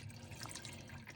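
Water trickles softly into the rear reservoir of a coffee machine, a faint brief pour with light splashing, alone and quiet.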